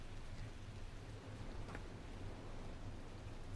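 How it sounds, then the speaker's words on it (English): Steady rain falls in the stormy world of the game The Last Caretaker, an even, continuous hiss of drops with a faint low hum beneath, no voices. "See, it's raining again"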